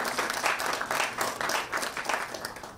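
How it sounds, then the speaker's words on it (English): A business engagement audience gives a team a round of applause, a steady, moderately quiet spread of many hands clapping with slight rhythmic swells throughout. "Let's give them a big round of applause"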